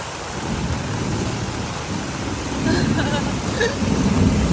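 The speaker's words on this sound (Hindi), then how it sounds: "इतनी तेज यहाँ पर तूफान आ चुका है।" Heavy rain from a storm in Hanoi, Vietnam roars continuously while low thunder rumbles and swells, getting stronger toward the end.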